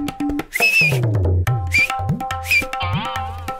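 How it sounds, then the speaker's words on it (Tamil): A cartoon whistle blown to summon people: several shrill, warbling high blasts in quick succession, loud and close, over busy cartoon sound effects, with no talking. "விசில் எடுத்து ஆளுங்களை கூப்பிடுது."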